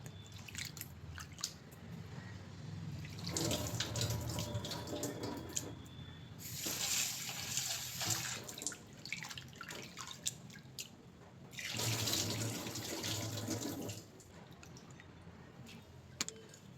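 Tap water runs over dal lentils being washed in a sink, with bursts of splashing and rinsing that rise and fall alongside steady dripping and squishing sounds, close by and without talk.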